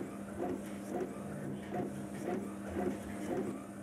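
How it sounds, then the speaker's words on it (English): A laserjet printer running, with a steady mechanical whir and a regular rhythmic pulse that repeats about every 0.6 seconds, heard close and clear at a moderate level. "I created him using some snazzy software and a laserjet printer"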